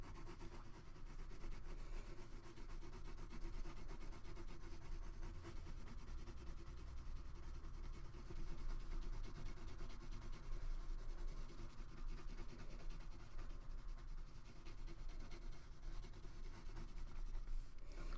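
Prismacolor colored pencils grind and rub steadily across paper in a continuous, close scratchy shading sound that holds an even level for the whole stretch with no talking.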